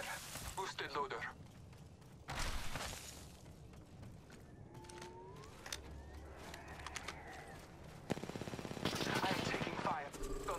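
Gunfire in the Apex Legends video game while playing Ash: loud, close bursts of shots open the scene, a second volley follows, and a long rapid automatic stream closes it, with a voice speaking during the quieter stretch between.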